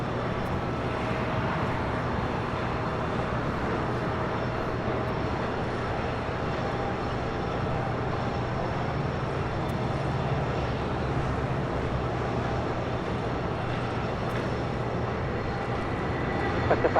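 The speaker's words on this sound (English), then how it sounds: "We have a special now rolling on 25 right. Star Alliance livery with United." A United airliner in Star Alliance livery rolling for takeoff on runway 25 right at LAX makes a distant, steady engine drone with a low hum underneath, fairly quiet and unchanging throughout, with no voices.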